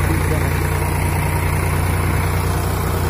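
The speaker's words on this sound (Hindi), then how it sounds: "ट्रैक्टर बिल्कुल भी बंद नहीं हुआ है" A Sonalika or Powertrac 50-horsepower-class tractor engine runs nonstop during a field demonstration. It makes a loud, close, unbroken low rumble that stays constant from start to finish.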